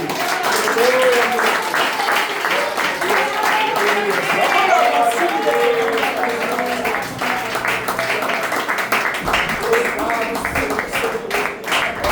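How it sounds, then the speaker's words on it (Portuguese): A church congregation claps along during a family worship service, continuous dense clapping mixed with voices and music throughout. "e as palmas são para o Senhor Jesus"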